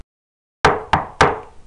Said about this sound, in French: Le loup vint frapper à la porte de la maison de bois.